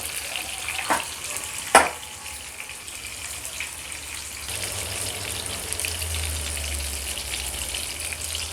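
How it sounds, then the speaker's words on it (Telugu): Marinated stuffed spicy masala fish frying in a pan, giving a steady, fairly loud broadband sizzle throughout, with a couple of sharp knocks early on and a low rumble joining partway through. "మ్యారినేట్ చేసుకున్న ఫిష్ని ఈ విధంగా ఇలా పెట్టి ఫ్రై చేసుకోవాలి"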